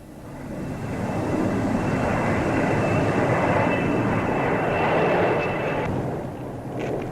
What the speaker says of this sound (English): There's the delta-shaped Vulcan, another of Britain's newest bombers.